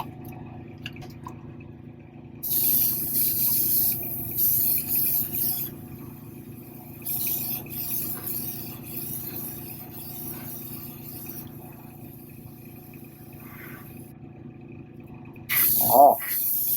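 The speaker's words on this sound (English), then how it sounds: "So I got that mixed in my airbrush. Let's see how it sprays." An airbrush sprays paint onto a custom 1/4-scale Wolverine sculpture in repeated hissing bursts of a few seconds each, close and steady, with quieter gaps between passes and a brief sharper spray near the end.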